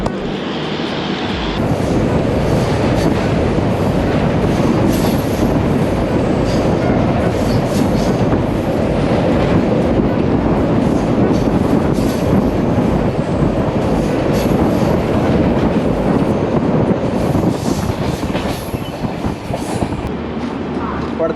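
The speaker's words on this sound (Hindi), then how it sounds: "सो गाइस चलो अब ट्रेन का डिपार्चर देखते हैं।" The New Delhi–Dibrugarh special train, number 02424, departs New Delhi railway station with a loud, continuous rolling rumble and rattling carriages that hold steady for the whole stretch.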